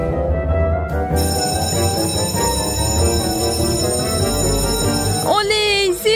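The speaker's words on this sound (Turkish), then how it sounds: "Oley! Zil çaldı." A school bell rings with a steady, high, sustained tone that runs through the whole stretch under lively voices and background chatter, ending with a brief sliding squeal.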